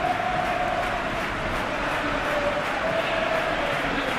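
Steady roar of a packed stadium crowd at Anfield in a football video game, a continuous broad wash of massed voices holding at an even level throughout with no single standout shout.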